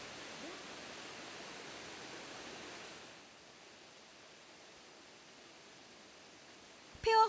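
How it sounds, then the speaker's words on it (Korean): The steady, broadband rush of Devi's Fall in Nepal, running in heavy rain, heard from a distance as a soft wash that eases partway through, with a brief sharp sound at the very end. "쏟아지는 빗줄기에도 아랑곳 않고 두 남자가 찾아간 것은 바로 데비스 폭포."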